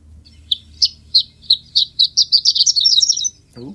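An eastern phoebe repeats a quick series of high chirps that speed up into a rapid trill, clear against a quiet background.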